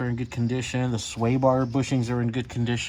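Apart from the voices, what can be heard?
No everyday noise stands out behind the speech.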